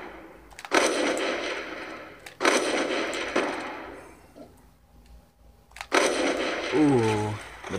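Ballista sniper rifle shots in Black Ops 2 free-for-all multiplayer: three sharp, loud cracks spaced a few seconds apart, each trailing off in a long echoing tail, with a brief voice near the end.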